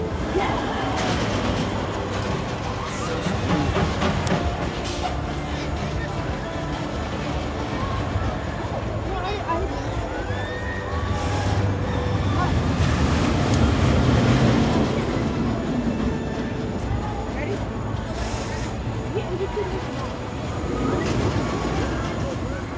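A Riddler Mindbender roller coaster at Six Flags Over Georgia roars along its track, a loud, continuous rumble and rattle of the train with swelling surges and voices mixed into the din.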